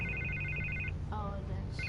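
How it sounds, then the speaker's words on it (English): In the Batman Telltale video game, a telephone rings with repeated electronic trills that break off briefly and then start again, steady and fairly loud over a low background hum. "I can't get the phone to stop ringing."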